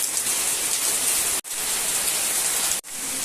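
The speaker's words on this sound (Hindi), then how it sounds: "बारिश बहुत ज़्यादा ही जोर से चालू हो गया इधर अभी, तेज" Heavy rain pours down hard and steady, a dense close roar with no talking, broken only by two brief gaps.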